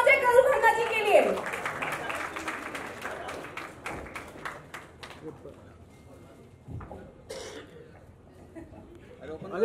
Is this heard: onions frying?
no